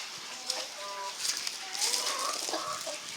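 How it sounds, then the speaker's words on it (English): Several hens clucking and warbling nearby in a chicken pen, overlapping soft calls with a few louder squawks, no speech. "And now we have a chicken pen."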